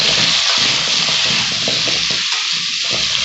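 Young jackfruit pieces fry with turmeric and salt in a hot pan, giving a loud, steady sizzle with scraping stirs through it and no voices.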